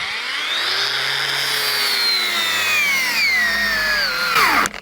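A MELLIF AG-DW20 cordless three-speed angle grinder runs at high speed with a loud, whining tone that sags as it cuts under load, then cuts off abruptly at the end.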